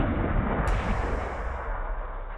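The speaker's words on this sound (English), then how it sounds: "Behemoth is shooting us again. I think he likes the annoying nature of that weapon." Heavy booming weapon fire from a Behemoth robot in the War Robots game, a dense rumbling barrage with deep thuds and a rising blast partway through, loud and without talking.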